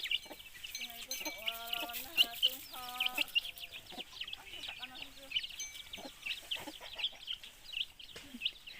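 Chickens cluck and call in a farmyard, with several short bursts of clucking at a moderate distance under steady high insect or bird background noise, plus faint talk.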